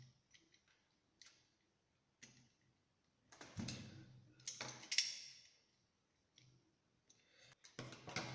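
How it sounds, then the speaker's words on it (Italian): A utility knife cuts through the stiff plastic sheath of a USB cable, heard as scattered close clicks and short scraping bursts separated by quiet gaps, with a few louder crunching cuts. "Allora io andrei a tagliare così col taglierino, po' dura la plastica."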